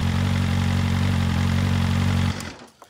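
Loud, steady idle from a BMW M1000RR motorcycle with an aftermarket exhaust, recorded about a foot from the pipe, a deep throbbing rumble that cuts off abruptly near the end.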